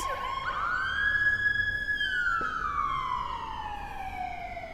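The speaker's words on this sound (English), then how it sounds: "All right, loud ambulance, so sorry about the noise." A loud ambulance siren wails close by on a Washington DC street, its pitch rising and then sliding downward as the vehicle passes, continuous and steady throughout.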